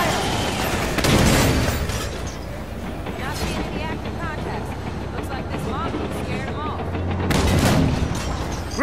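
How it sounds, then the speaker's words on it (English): Gunfire strikes the player's vehicle in Halo 5: Guardians, with loud booming impacts and dense crackling bursts over a constant rumble, mixed with voices talking. "I'm taking fire in the gunner seat!"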